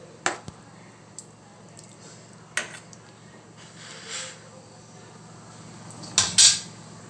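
A metal spoon scrapes and clinks in a pan while liver gravy is stirred with added water, sparse knocks and wet squishing at close range, with a louder clatter near the end.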